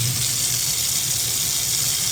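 Hot water gushing from a tap into a sink, a loud, steady, close rush of running water with no voices.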